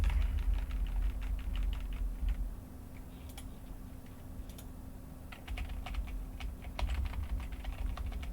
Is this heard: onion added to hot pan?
no